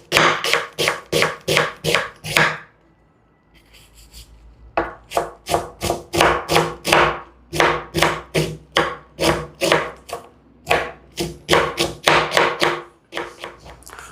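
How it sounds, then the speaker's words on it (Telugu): A knife finely chops onion on a board in quick, steady strokes, with a brief pause midway before the brisk tapping resumes, loud and close. "ఇప్పుడు ఉల్లిపాయని సన్నగా కట్ చేసుకుందాం"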